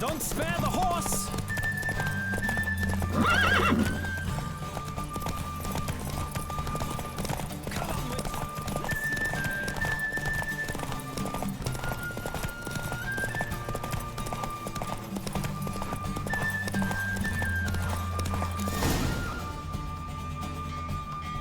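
Rhythmic hoofbeats of a horse galloping in a race in the video game The Witcher 3 drum steadily throughout, with electronic tones and music-like beeps layered over them and occasional louder thumps; a voice speaks briefly in places.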